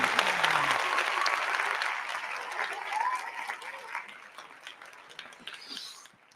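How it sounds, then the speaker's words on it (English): A soft wash of applause, fairly faint and steady, slowly fading over a few seconds, with a voice briefly audible beneath it. "Good to get applause for it too."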